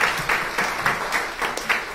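A small audience at a wholesalers' training session claps briefly, a short burst of applause in pulsing swells that stays fairly close and loud, with no voices over it.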